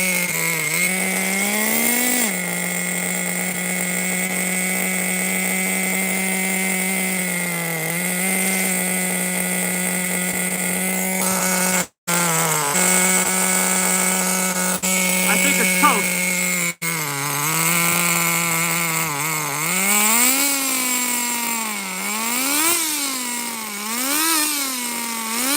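A Nitro Razor XT nitro RC car engine runs steadily at a high, buzzy idle for a long stretch, cut by two brief drops, then revs up and down in quick rhythmic swells near the end.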